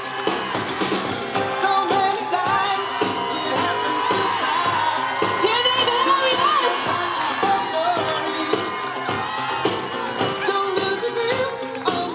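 Outdoor crowd at the Lowell kinetic sculpture race cheering, clapping and whooping for a team and its human-powered vehicle, a steady wash of applause and shouts with scattered louder yells, an announcer's voice mixed in.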